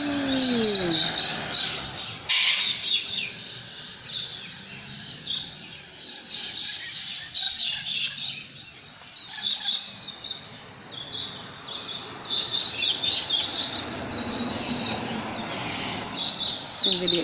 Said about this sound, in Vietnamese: Dây điện chúng ta thấy có hai con cockatoo màu trắng muốt, mồm to. Và hai chú vẹt xám này.